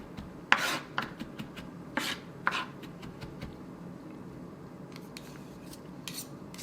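A knife mincing a garlic clove on a cutting board, a few sharp close chopping taps early on, then quiet scraping and light tapping against the board.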